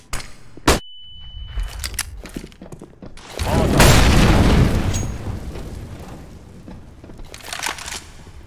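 A flashbang grenade in CS:GO gives a sharp metallic clink as it is thrown, then a loud sustained ringing burst a few seconds later that slowly fades into scattered gameplay noises.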